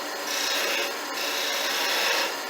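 A skew chisel cuts wood on a lathe, a steady, close rasping scrape that holds evenly for a couple of seconds with slight swells in intensity.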